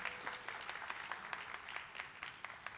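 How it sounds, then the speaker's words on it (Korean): Faint, sparse clapping from a small audience at a Korean arts education case presentation, a few distinct hand claps heard quietly at a distance for a couple of seconds. "잘 보셨다면 박수 한번 쳐주세요."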